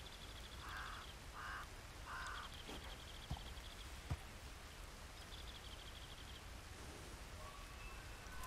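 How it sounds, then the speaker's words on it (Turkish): Steady rain falling in the Red Dead Redemption 2 game world, a dense continuous hiss with crows cawing three times early on and a couple of brief sharp ticks, no talking. "Yağmur başladı."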